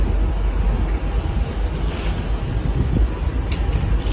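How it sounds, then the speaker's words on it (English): Strong, steady wind buffets the microphone with a deep continuous roar, gusting slightly, with faint sea wash beneath, high up on the deck of a cruise ship at sea. "Very windy."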